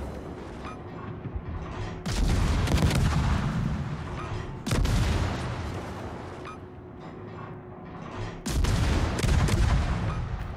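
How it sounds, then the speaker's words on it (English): Cruiser secondary batteries firing in World of Warships, three heavy booming salvos spaced a few seconds apart, each a loud broadband blast that rolls off into rumbling echo over a steady engine drone. "And the machine gunning begins."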